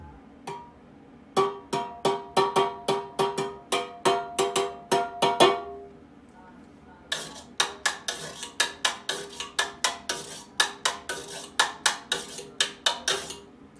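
A spoon drums on an empty pineapple juice can, the metal ringing out in bright, rhythmic strikes. One quick patterned run is followed by a short pause, then a longer, denser beat played alone.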